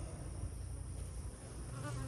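Honey bees buzz in a dense, steady drone around hive frames during a hive inspection. The hum is close and continuous, with no voices.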